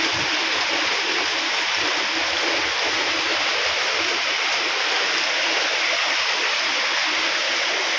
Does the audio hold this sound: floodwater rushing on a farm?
yes